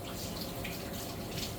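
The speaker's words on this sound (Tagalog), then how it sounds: "Lagyan mo ng tubig ah." Water pours steadily from a tap into a cooking pot in a home kitchen, a continuous close rushing splash with no talk over it.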